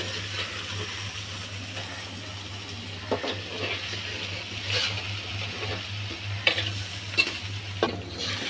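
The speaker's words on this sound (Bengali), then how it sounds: "2-3 বার আমি উল্টাই পাল্টাই এভাবে ভেজে নিলাম লাল লাল করে।" Hilsa fish pieces frying in mustard oil and being flipped with a spatula, a continuous close sizzle under an electric hum, punctuated by several sharp scraping clacks and splatters toward the end.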